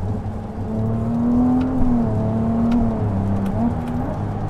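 Ferrari 296 GTB with an eight-speed dual-clutch gearbox revving on a circuit, the engine pitch climbing and dropping through quick shifts, loud and close, with no talking.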